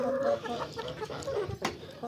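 Chickens and roosters cluck nearby in a farmyard, a short burst of overlapping clucks and calls at moderate loudness, with no speech over them.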